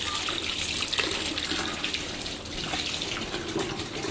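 Tap water runs steadily into a kitchen sink while fish is cleaned for kebabs, a continuous hiss and splash heard close and fairly loud, with no talk over it.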